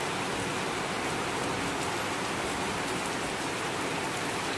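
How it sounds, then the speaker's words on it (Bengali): Heavy monsoon downpour during the Shraavan month fills the air with a dense, unbroken roar of rain drumming on surfaces, steady and close, with no voices. "প্রচুর বৃষ্টি।"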